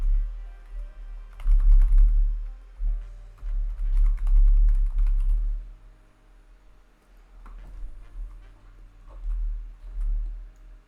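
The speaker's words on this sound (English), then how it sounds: "Now let me type the email that I would like to have access." Rapid clicking keystrokes on a computer keyboard while an email address is typed, coming in close, fairly quiet bursts with short pauses between them.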